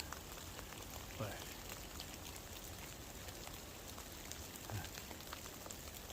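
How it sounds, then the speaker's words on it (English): Steady freezing rain pattering on snow and hemlock branches on a wooded mountainside during a winter storm, a dense even hiss with a couple of louder drops, a faint voice now and then. "you can still hear the rain"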